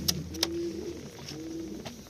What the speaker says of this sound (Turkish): Valla bu kuşlar kolay kolay kimse kimseye vermiyor abi